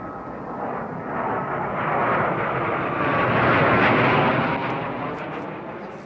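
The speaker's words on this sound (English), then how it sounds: "you're cleared into position and cleared for takeoff" A fixed-wing aircraft takes off from a runway, its broad engine roar building steadily and staying loud and near before easing slightly toward the end, with no voices over it.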